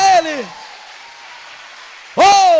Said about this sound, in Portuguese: Se você recebe, diga amém e dê um forte aplauso a Ele.